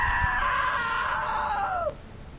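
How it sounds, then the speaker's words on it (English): A long, sustained scream from a character in the video game What Remains of Edith Finch, loud and steady, then it bends downward and cuts off abruptly. "Now that was a great scream."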